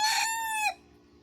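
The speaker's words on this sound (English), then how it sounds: "He's the banty rooster who is feeling a little threatened because I'm so close to his ladies." A bantam rooster named Giuseppe crows once, loud and close, in a hot Oklahoma chicken run in July, a bright strained call cutting off sharply into quiet background.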